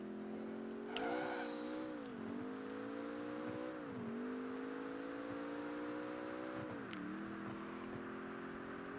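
Virtual car engine from Project Gotham Racing 3, a Koenigsegg, droning steadily at high revs with several pitch dips as gears shift, loud and continuous with a brief tire or impact noise near the start and no talking.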